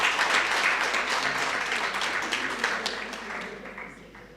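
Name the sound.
clapping hands for the officials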